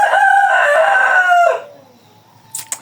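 Chickens at a Luo family homestead, a loud, close rooster crow held for about a second and a half before trailing off, followed by a couple of short sharp clucks.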